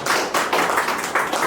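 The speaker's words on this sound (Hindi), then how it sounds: "तालियां" A brief burst of applause, with clapping in quick, uneven waves from a small crowd, loud and close.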